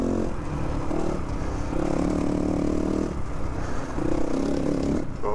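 Continuous engine drone of a GPX Moto FSE450R four-stroke dirt bike riding through mud, rising and falling in rhythmic revs under wind and clatter, close and steady throughout.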